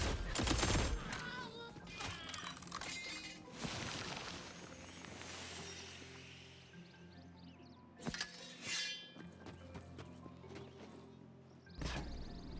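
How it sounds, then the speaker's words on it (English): Burst-fire gunshots from a weapon in the fantasy shooter Tiny Tina's Wonderlands, with sharp clustered cracks separated by short gaps alongside clinking game effects and no voices. "I'm gonna try out the burst fire"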